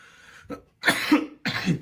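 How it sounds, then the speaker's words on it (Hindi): A person coughs three times in quick succession, close and loud, with short pauses between the bursts and a throaty, rough quality. "खांसी है मुझे बहुत ज्यादा"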